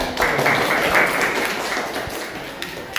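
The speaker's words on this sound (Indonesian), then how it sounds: "Tepuk tangan dulu dong" A class group claps briefly during a school lesson, the sound thinning and fading after a couple of seconds into a quieter room with scattered taps.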